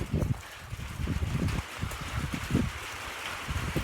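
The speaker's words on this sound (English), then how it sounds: "It's about to stop raining." Rain falls steadily outdoors as a cat watches, a continuous wet patter with scattered nearby drips and splashes, fairly close and moderately loud, with no talking.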